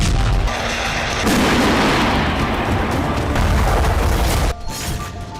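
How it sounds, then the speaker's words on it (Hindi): Iskander missile strikes in Ukraine: dense, sustained roaring booms and crackling blasts fill the whole clip, loud and continuous, then drop abruptly to a lower rumble near the end. "रूस ने 24 घंटे के अंदर 1 दर्जन जगहों पर स्कंदर मिसाइलों से विस्फोट किया।"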